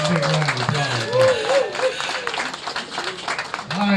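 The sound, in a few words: crowd applause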